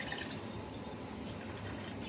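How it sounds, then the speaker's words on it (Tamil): Water pours and drips from a rinsed bowl, a quiet splashing trickle heard up close for a couple of seconds with no voices. "அலாசி ஊற்றிடு"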